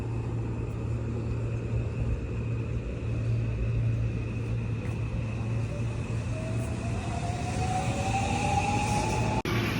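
A Seibu-Chichibu line train in the Yokoze area of Japan gives off a steady, loud rumble throughout, with a faint tone gliding upward near the end and a sharp click at the very end.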